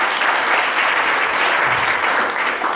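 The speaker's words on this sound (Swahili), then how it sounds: "Pigia Yesu makofi yako." A church congregation claps for Jesus during Sunday prayers. The applause is steady and dense, filling the room at close range with no talk over it.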